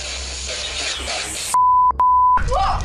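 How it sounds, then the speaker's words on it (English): A REM pod paranormal detector gives a sharp, steady electronic beep, briefly interrupted and resumed, cutting in loud and alone before a voice breaks in at the end. "REM pod's going off."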